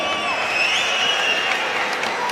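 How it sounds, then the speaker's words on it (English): Boxing crowd in a Glasgow arena applauding Nonito Donaire, a dense, steady wash of clapping and crowd noise with faint cheering and a voice over it, loud throughout. "Nonito Donaire receiving generous applause from the crowd here in Glasgow"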